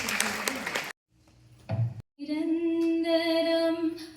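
A short burst of audience clapping at a stage event in a civic centre, fading out after about a second; after a pause, a singing voice with musical accompaniment begins.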